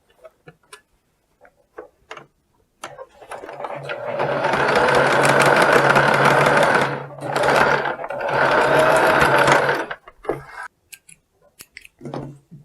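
A sewing machine runs a 1 cm seam on a round-collar dress, a steady whirring burst of about seven seconds with a brief pause midway, set between quiet handling noises and nearby talk.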